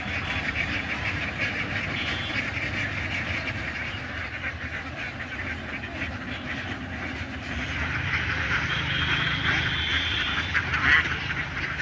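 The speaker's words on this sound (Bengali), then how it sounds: "এই 17-18 হাজার হাঁস আছে" A large flock on a duck farm of some seventeen to eighteen thousand ducks quacks without pause, a dense, steady chorus of many birds near and far with no voices.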